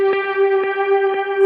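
An electric guitar runs through an MXR reverb pedal set to a high-octave harmonized reverb. Sustained shimmering tones ring out under evenly spaced soft plucked notes, with no talking.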